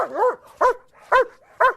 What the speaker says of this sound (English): What does this dog sound like?